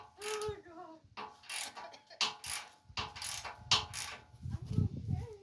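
A wrench ratchets on bolts while a steel Fab Fours bumper goes onto a Jeep JKU, with repeated clicking bursts spaced by short pauses and a low rumble near the end.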